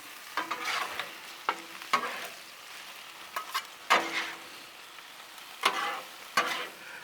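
Smoked sausage Alfredo is stirred on a Blackstone griddle: several separate scraping strokes of a utensil over a soft background sizzle, close by and with no voices.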